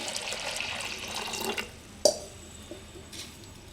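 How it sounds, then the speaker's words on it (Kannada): A short splash of water pours into a pressure cooker with vegetables and sprouts, then stops, followed by a single sharp clunk and quiet stillness. "ಈಗ ಇದಕ್ಕೆ ಸ್ವಲ್ಪ ನೀರು ಹಾಕಿ"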